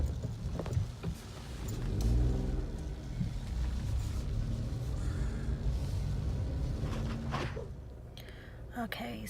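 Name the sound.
car driving away from the hospital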